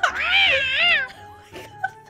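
A cat in the Gang Beasts game gives a loud, close, wavering meow that bends up and down in pitch, followed by a brief quieter mew.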